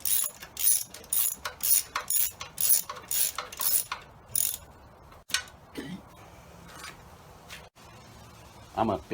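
A ratchet with a 10 mm socket turns a drain plug during an oil change, a rapid run of loud clicking bursts up close, then a voice speaks with a few clanks of metal.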